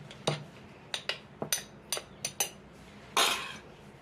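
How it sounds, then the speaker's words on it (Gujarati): A metal spoon clinks and scrapes repeatedly in a jar, pressing down dhana-jeera spice powder, several short sharp taps in an uneven rhythm, ending with a longer gritty scrape. "આ ચમચેથી જો આવી રીતના પ્રેસ કરવાનો"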